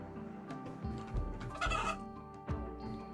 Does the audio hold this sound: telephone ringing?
no